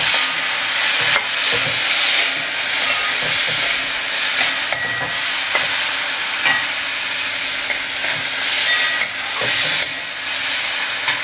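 Tomatoes fry in a hot pan for katla butter masala, a dense steady sizzle and hiss with scattered clinks of stirring, loud and close throughout, no talking.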